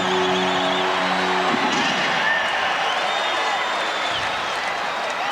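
A basketball arena crowd roars steadily and loudly as Horace Grant blocks a shot during the Rockets at Magic Christmas Day 1995 NBA game. A commentator speaks briefly over the noise at the start.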